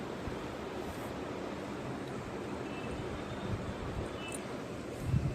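Hot water poured into a masoor lentil curry with potatoes in a cooking pot, making a steady, rushing pour that runs evenly for the whole stretch with no voices.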